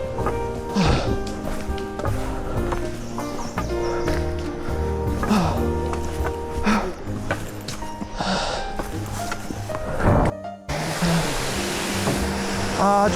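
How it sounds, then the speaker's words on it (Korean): Small waterfall along a mountain trekking trail in Thailand, a steady rushing splash of water running throughout with other outdoor noises and brief sounds laid over it, and a change in tone near the end. "조그만 폭포가 하나 있네요. 이렇게. 어. 시원하네, 물소리가."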